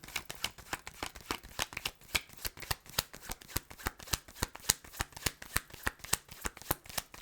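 Tarot cards being shuffled by hand in a rapid, steady run of crisp riffling snaps lasting the whole stretch, close and fairly loud with no talking.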